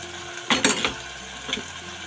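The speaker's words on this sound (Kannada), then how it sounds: "ಹಸಿ ಸ್ಮೆಲ್ ಹೋಗೋವಾಗ ಫ್ರೈ ಮಾಡೋಣ." Egg masala curry frying in a pan with coriander and chili powder, giving a couple of brief sizzling, stirring bursts against a quiet background.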